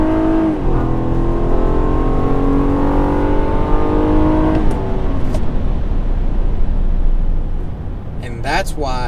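A 2017 Honda Accord Touring with a VTEC V6 engine accelerates hard on an empty road, its loud, rising engine note climbing steadily in pitch through the gears while a person's voice comes in near the end.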